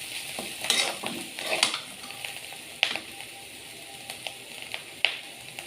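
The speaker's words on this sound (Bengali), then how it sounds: "পোস্ত দিয়ে আমি কিছুটা নাড়িয়ে নেব" Spiny gourd frying in a pan with poppy seeds, stirred with a utensil: soft sizzling throughout with a few sharp scrapes and clinks against the pan, fairly quiet and close, no talking.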